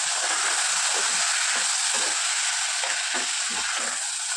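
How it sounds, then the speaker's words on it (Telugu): Sona Masuri rice frying in a hot tempering in a pan, a steady loud sizzle and hiss with soft stirring scrapes throughout. "ఈ బియ్యం కూడా తాలింపులో వేయించుకోవాలి."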